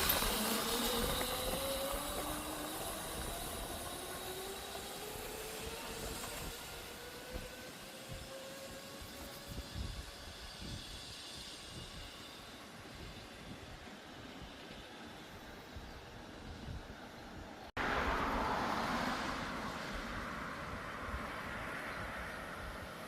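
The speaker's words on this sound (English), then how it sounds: "48 volt 1000 watt MotoTec mini bike. All electric, baby." A MotoTec 48V 1000W electric mini bike rides past with a rising and falling motor whine and a steady rushing road noise, fading somewhat before a louder stretch near the end.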